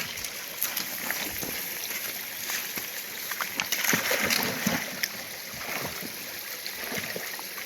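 Soft, steady splashing and sloshing of water as a dog wearing booties wades through it on a hike, close by and fairly quiet, with small irregular splashes.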